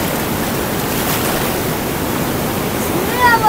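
Cold mountain stream water rushing over stones in northern Pakistan near Naran, a steady, loud, broadband roar filling the whole stretch with no break.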